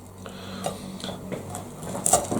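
A knife and fork cut into beans on toast topped with sausages and a poached egg, producing soft scrapes and a few light metallic clinks against a plate, close and quiet.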